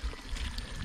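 Strong, forceful flow of water pouring steadily, filling the short moment with a dense, continuous rush at close range and no speech over it.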